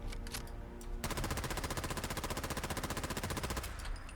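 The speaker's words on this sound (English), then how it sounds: "nice rate of automatic fire" Rapid automatic gunfire from a modded weapon in Fallout 4, a fast, evenly spaced stream of sharp shots lasting a few seconds, preceded and followed by quieter game ambience.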